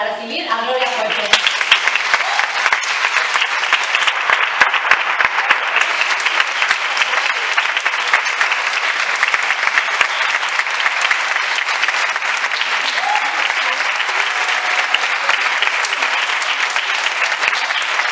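A large audience applauds at a tribute event, sustained dense clapping that runs loud and steady throughout, with a voice heard briefly at the start.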